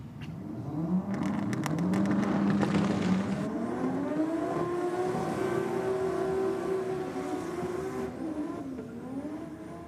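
A race car with a Toyota 1JZ engine revs and climbs in pitch as it accelerates, with a high whine and tire squeal, heard from a moderate distance.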